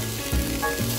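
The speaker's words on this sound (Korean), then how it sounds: "프라이팬에 기름을 두르고 팬이 달궈지면 뜨거운 팬 위에 준비한 재료들을" Chopped chicken sausage, frozen onion and green pepper sizzle loudly in a hot oiled frying pan, a steady crackling hiss with a brief low thump near the middle.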